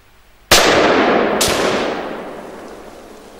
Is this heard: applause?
no